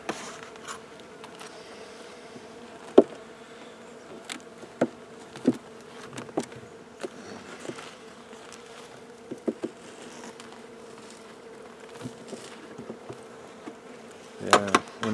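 Steady honey bee buzzing from bees robbing another colony's hive hums throughout at moderate volume, with scattered close passes and soft taps, no voices.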